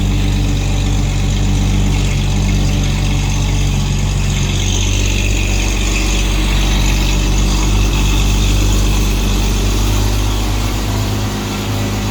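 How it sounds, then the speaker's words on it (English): A V6 car engine idles close by, a loud, steady low rumble with a constant hum and no pauses throughout. "can't believe this thing's a V6."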